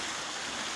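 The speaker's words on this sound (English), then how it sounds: "So you see the water from the Ebri mountains." Rainwater from the mountains runs in a steady, full rushing stream with no break, like a strong flow in an open channel, heard close and alone.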